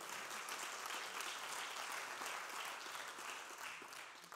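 A tech-talk audience applauds after a working live demo at a conference session, a soft, distant wash of clapping that stays steady and faint throughout.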